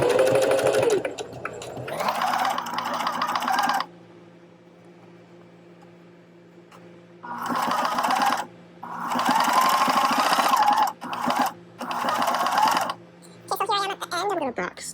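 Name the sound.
sewing machine stitching fabric face mask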